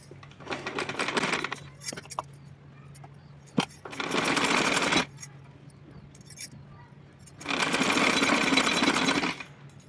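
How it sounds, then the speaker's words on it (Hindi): A sewing machine stitching a cotton dress, running in three loud sustained bursts with quiet pauses and small clicks between them, close up. "सिलाई लगाते हुए आपको साथ में दिखाऊँगी भी।"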